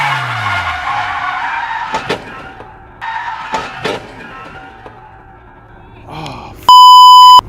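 A Mazda Miata skids in a drift and crashes into a curb at night, with bursts of tire screech and scraping separated by short lulls, ending in a loud steady electronic beep.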